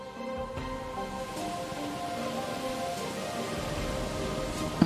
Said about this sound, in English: Technically, it is raining